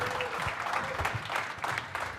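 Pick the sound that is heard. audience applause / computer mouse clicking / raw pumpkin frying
audience applause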